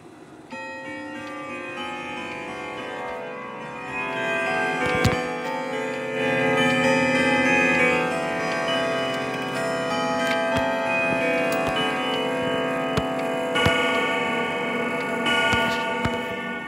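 Howard Miller grandfather clock heard at length with a steady, faint tick running under sustained, ringing bell-like tones, with a few sharper knocks scattered through.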